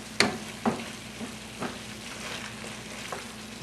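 A spoon works through eggplant caponata with tomatoes simmering in a pan, giving a soft steady sizzle with a few sharp scraping knocks against the pan, close by and without speech.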